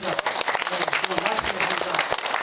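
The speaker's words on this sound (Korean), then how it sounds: "뜨거운 박수 연속 보내주시면서 잘 들어주셔서 고맙습니다" An audience at an academic conference lecture claps warmly, a loud, continuous patter of many hands with individual sharp slaps standing out, sustained throughout.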